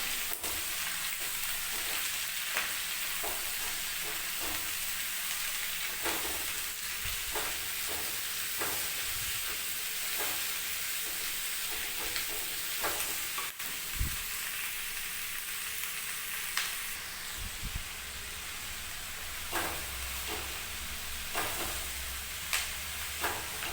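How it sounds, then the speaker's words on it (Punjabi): Food frying in oil on medium heat in a home Punjabi kitchen, a quiet continuous sizzle broken by periodic scraping knocks of stirring, near and soft, with no talking. "ਚੰਗੀ ਤਰ੍ਹਾਂ ਆਪਾਂ ਇਹਨਾਂ ਨੂੰ ਤੇਲ ਦੇ ਵਿੱਚ ਮਿਕਸ ਕਰ ਦਾਂਗੇ"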